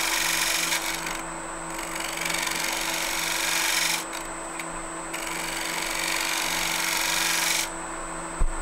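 A fluteless gouge shear-scrapes the inside of a wooden bowl spinning on a lathe, giving a steady hissing scrape over the motor's constant hum, with brief breaks where the tool lifts from the wood.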